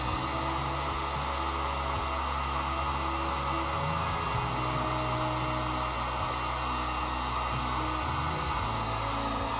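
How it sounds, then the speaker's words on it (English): A heat gun blows hot air over crinkled arrow vanes, a loud, steady close-up roar with a fluctuating low hum that runs unbroken throughout. "I tried to remove all these with the heat gun and they wound up straightening up"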